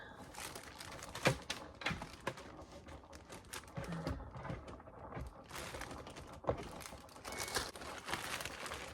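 Plastic shipping bag crinkles and rustles close up as an item is packed for mailing, with irregular crackles and a couple of sharper snaps, no talk.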